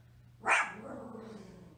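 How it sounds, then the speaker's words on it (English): A dog indoors lets out a single sharp, angry bark at the mailman, fairly close, trailing into a brief low growl. "My dog's angry at everything because the mailman just came."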